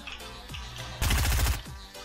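Gunfire from a weapon in the video game Fortnite: a brief loud burst of rapid shots in the middle, with softer thuds and game effects before and after.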